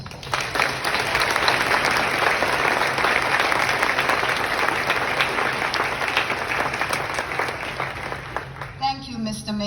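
Sustained applause from a ceremony audience at a New York State Bar admissions event, dense and even clapping filling the hall for about nine seconds before fading out.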